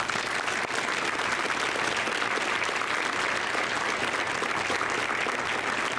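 Audience applause at a high school gathering for senior athletes signing college letters of intent, a dense, sustained wash of clapping from a sizable crowd in a gym-like space, continuous and even.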